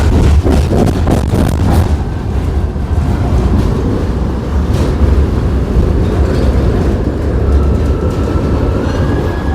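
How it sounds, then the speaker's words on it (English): A Schindler tram runs on a city line in Sofia, with loud rumbling wheel-on-rail noise, clattering at first and then settling into a heavy continuous roll close by, and a faint high squeal toward the end. "And that is the Schindler tram."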